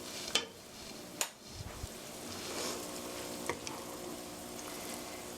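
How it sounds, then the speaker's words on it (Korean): A pot of oyster mushroom and egg soup being stirred after salt and ground black pepper go in: a steady low simmering bubble runs throughout, with a few sharp clinks of a spoon against the pot. "고루 저어주시고요."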